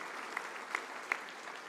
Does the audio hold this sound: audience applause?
yes